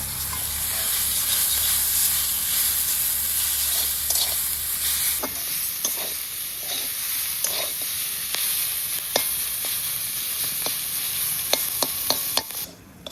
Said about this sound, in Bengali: এই দেখুন শাকটা সুন্দর করে ভেজে নিয়েছি